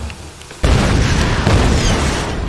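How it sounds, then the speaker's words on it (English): Loud explosion bursts in the Tomb Raider video game: a sudden heavy boom erupts, followed by sustained rumbling blast noise and a second swell, close and intense, with no talk. "there's a lot of explosions here"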